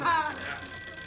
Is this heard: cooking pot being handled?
no